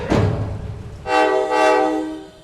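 Arkansas and Missouri excursion train sounds its horn at departure from Springdale: a brief low rumble, then a loud, sustained two-part horn blast close by.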